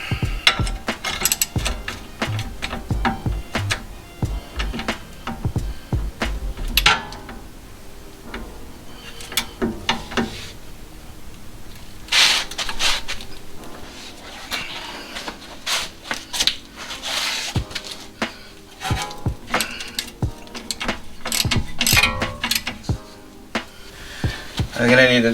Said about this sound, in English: So I'm gonna use the 18mm socket.